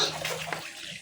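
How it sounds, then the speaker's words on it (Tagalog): Water runs steadily from a faucet into a pig's concrete pool, a close, continuous rushing splash that carries on without pause for the whole second. "Yan ang gripo nila."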